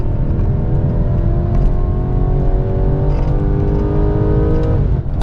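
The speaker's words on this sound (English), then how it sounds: "engine sounds really good. Listen to that." A 2017 BMW F22 230i engine revs hard and close, pitch climbing steadily to a high whine near 7,000 RPM before dropping back, loud and continuous with no voices.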